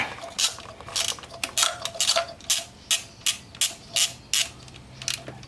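A 10 mm ratchet wrench loosens bolts on a Toyota Camry 2.4 engine wiring harness, a sharp clicking ratchet in repeated short strokes, close and distinct, with about a dozen bursts in quick rhythm.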